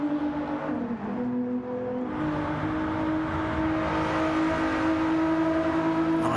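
GT3 class race cars circling Monza in a racing video game: a continuous loud engine whine with steady harmonics, a brief dip in pitch near the first second, then holding a sustained high-revving tone.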